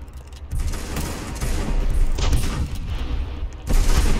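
Mortar blasts during a castle siege in a video game, several heavy booms and crackling bursts rolling one into another, the loudest hits near the start and end.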